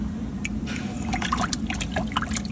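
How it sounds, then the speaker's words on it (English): Striped-tail Geophagus fish splashing in an aquarium tank, with scattered small splashes and drips over a steady low hum of tank equipment, close and moderately loud. "See if I can get one without him splashing around too much."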